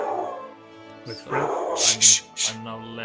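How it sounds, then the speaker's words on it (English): A pet dog barks and yips several times at home, a burst of short, sharp barks close by that cut across someone talking quietly over a board game. "Sorry, that's my dog."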